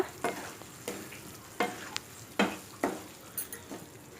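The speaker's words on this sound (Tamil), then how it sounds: "சேர்த்துட்டு நல்லா மிக்ஸ் பண்ணி விட்டுருங்க" Small gooseberries stirred with country sugar (jaggery) in a pan, a handful of distinct scraping spoon strokes at irregular intervals over a soft background sizzle, close up and without speech.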